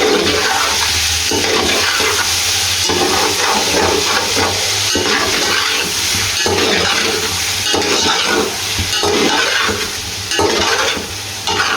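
Chicken frying in a pan with green chili, ginger and garlic paste for a biryani, giving a steady, loud sizzle with repeated stirring and scraping sounds all the way through, close up, and no talking.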